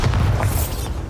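In the video game Hogwarts Legacy, a Bombarda blasting spell sets off a short, loud, booming explosion with a deep rumble that fades quickly.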